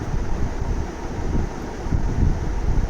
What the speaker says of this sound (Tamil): சூப்பராக இருக்குது காற்று.